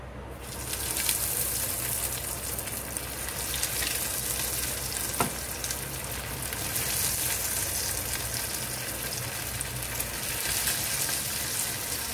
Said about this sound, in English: Now we'll have to shallow fry it.